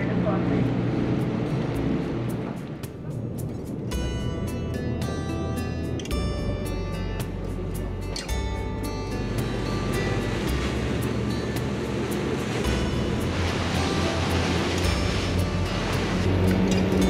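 Constant low engine rumble and rushing water noise of an express passenger boat under way to Rathlin Island, Northern Ireland, steady and loud throughout, with voices faintly mixed in.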